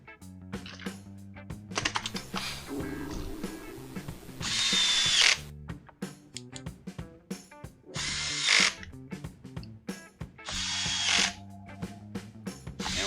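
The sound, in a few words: power tool tightening nuts on Craftsman chainsaw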